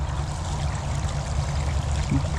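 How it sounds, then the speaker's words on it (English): Water draining through a channel opened in a beaver dam, a steady low gurgling flow close by, continuous and gentle with no voices. "Water's starting to move, even right here."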